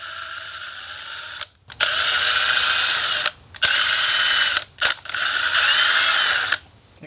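Ratchet wrench clicking rapidly while loosening the cylinder bolts on an H1 engine, close and loud in three long bursts separated by brief pauses.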